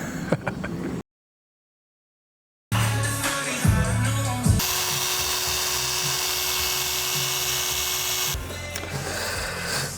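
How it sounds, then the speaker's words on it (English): A Rupes polisher with a closed-cell pad and solvent-based polish works the bodywork of an Audi R8 GT, giving a steady mechanical whine that rises after a brief gap and holds near and loud for several seconds. "Using a Rupes with a super close cell polishing pad with a 3800 Manzurnas, which is a solvent-based polishing."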